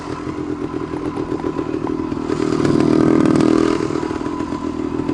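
A 1974 Yamaha DT250 motorcycle engine runs with a steady, close, buzzing two-stroke drone that swells louder midway and then eases back, with some clatter mixed in.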